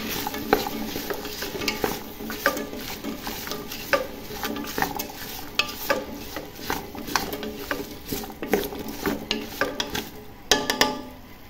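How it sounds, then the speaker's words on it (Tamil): A vegetable biryani mixture being stirred in a pot, with a steady run of close scrapes and soft clatters from the spoon over a faint sizzle, continuing rhythmically with no talking. "பாருங்கள் நல்லா ஒரு மிக்ஸ் பண்ணி விட்டுருங்க"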